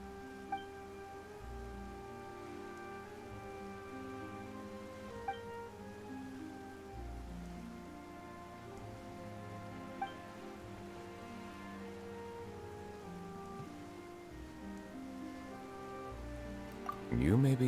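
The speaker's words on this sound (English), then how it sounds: "Why is it raining all of a sudden?" Rain falling in the video game Genshin Impact, a steady soft hiss running throughout beneath layered game music, with a brief louder burst at the very end.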